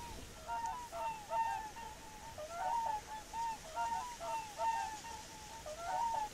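Water birds cry across a river delta, giving repeated honking, goose-like calls in short bursts about every second, moderately distant over a soft, steady background.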